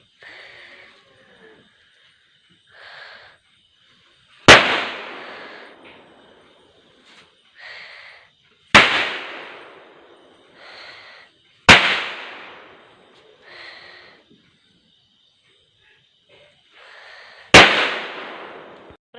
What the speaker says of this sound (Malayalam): ഇപ്പം അച്ഛൻ പടക്കം പൊട്ടിക്കാൻ തുടങ്ങി.